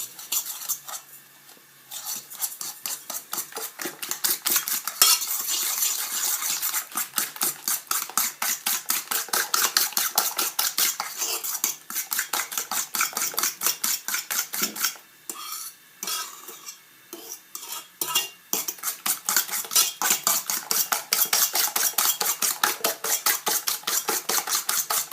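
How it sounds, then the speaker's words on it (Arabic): Two eggs and sugar being whisked by hand in a bowl for jam-filled sablé cookie dough, a fast, steady rhythmic clatter of the whisk against the bowl that runs continuously with a few brief pauses. "نخلطوهم هذوك جوج حبات بيض والسكر"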